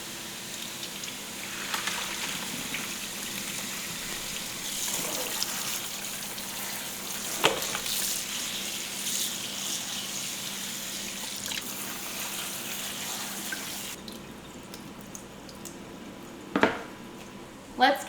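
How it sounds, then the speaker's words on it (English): Cooked pasta being drained, with water pouring in a steady continuous rush into a kitchen sink, close by, ending with a couple of clanks from a pot. "So let's get our pasta drained and starting to cool off."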